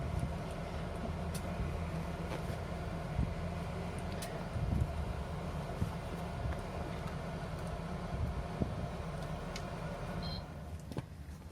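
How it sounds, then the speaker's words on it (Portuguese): Evaporative air cooler left running indoors, producing a steady wind-like whooshing hum that holds constant throughout, moderate in level with a low rumbling base. "eu esqueci o meu climatizador ligado e ficou esse barulho de vento"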